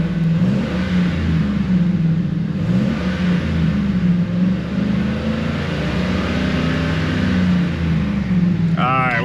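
A Ford F150 pickup suffering loss of engine power, its engine revved between 2,000 and 4,000 RPM under varying throttle. The close, loud drone swells and dips steadily throughout.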